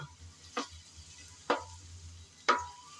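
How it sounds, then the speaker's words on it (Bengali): Cabbage being stirred and fried in a pan: three distinct scraping strokes of a spatula roughly a second apart, each with a brief sizzle, over a quiet low background. "কিছুক্ষণ নেড়ে চেড়ে ভেজে নিলাম"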